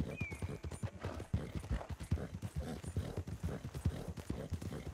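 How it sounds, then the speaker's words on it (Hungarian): Horse hooves clip-clop in a steady, brisk rhythm close by, loud and continuous with a brief whinny-like squeal near the start and no talking. "Hú, mennyit bír ez a ló?"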